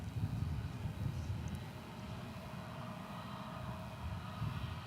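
A United airliner rolls down runway 36 right at DFW Airport, a distant, low engine rumble that holds steady and swells slightly at the start and end.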